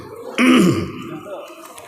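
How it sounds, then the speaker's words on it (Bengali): Adult man, a preacher at a religious gathering who is recovering from fever and chest pain, gives one short, sharp throat clearing and cough up close, then faint room noise. "কাশি আসছে, কখনো কখনো ওষুধ খেয়ে উঠেছি।"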